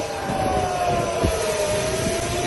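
Aircraft engines roar and whine steadily at an airport in Israel as passengers hurry off a plane: a loud, continuous drone with a high tonal whine and no talking.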